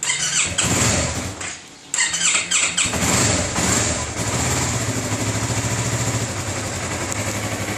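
A car engine fitted with an MT03 anti-theft alarm cranks with a squealing starter, stumbles and cuts out briefly, then cranks again. It catches and settles into a loud, close, steady idle.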